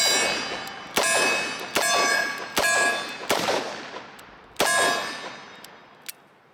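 A Chiappa Rhino 40DS or Smith & Wesson 686 SSR revolver fires .357 Magnum rounds at steel targets: five sharp, ringing clangs over about six seconds, each decaying with metallic resonance, with no talk.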